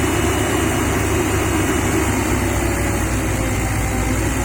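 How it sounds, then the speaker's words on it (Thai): A Komatsu PC120-6 excavator engine runs steadily and loud, a constant heavy low rumble with a droning hum throughout and no voices. "ต้องเร่งเครื่องช่วยครับ"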